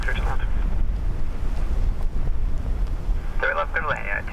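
Strong wind buffets the microphone at Dublin Airport as a steady low rumble, with brief radio voices cutting in near the start and end.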